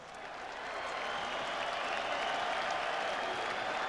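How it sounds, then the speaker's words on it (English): An arena crowd at a boxing event claps in sustained applause, swelling in the first second and then holding as a dense, even wash of clapping. "At this time, please salute them all with your applause."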